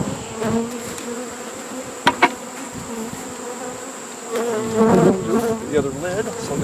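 Angry honey bees swarm around a trap being moved, their loud, dense buzzing rising and falling close by, with a couple of sharp knocks and a few scraping handling noises.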